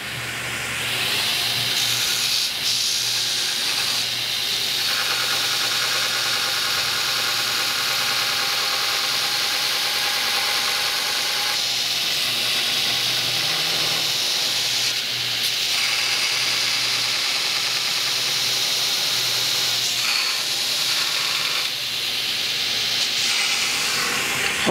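A belt grinder profiles a knife handle with a loud, steady abrasive hiss and whine that runs almost unbroken for about twenty-five seconds, dipping only briefly now and then.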